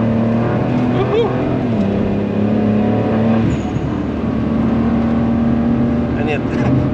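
An 800+ hp BMW 335i at speed on the Nürburgring, heard from inside the cabin as a loud, steady engine drone with shifting pitch, and people talking over it.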